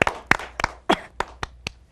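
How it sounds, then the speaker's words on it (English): Applause on an Indian TV talk show comes as sparse, sharp hand claps, about eight separate slaps in two seconds, close and crisp rather than a full crowd roar. "big round of applause to her"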